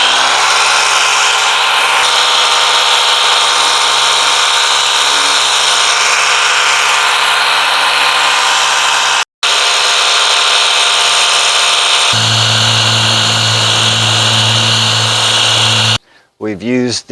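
Ryobi pressure washer rinsing off soap, a loud, close, continuous motor hum and hiss that briefly cuts out, then resumes with a deeper tone before ending in a short burst of handling noise.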